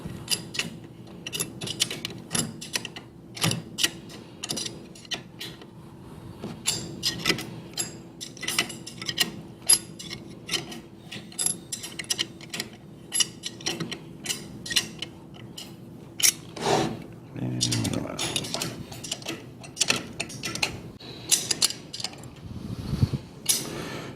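Bolts on a rack and pinion actuator mounted to a valve are tightened in a star pattern, giving repeated sharp metallic ratchet clicks and short creaks in irregular bursts, close and alone without talk.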